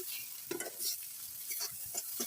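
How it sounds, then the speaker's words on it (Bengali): Turmeric, salt and spice paste sautéed in hot oil in a pan, with a steady sizzle under repeated scraping stirs from a spoon. The strokes come close and fairly loud in an uneven rhythm, and no voices are present. "এবার এগুলোকে কষিয়ে ভালো করে কষিয়ে নেব।"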